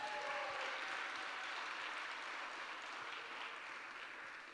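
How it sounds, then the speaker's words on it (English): Audience applause at a saxophone arangetram, a faint, continuous crowd clapping that tapers slightly over a few seconds. "I think that deserves a big round of applause."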